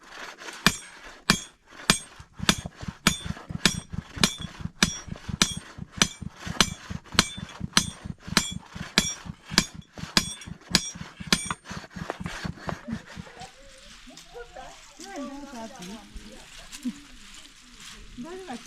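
Regular metal-on-metal hammer blows strike a blade being sharpened, loud and close, in a fast steady rhythm of several dozen hits that stops partway, after which quieter handling noise and faint voices follow.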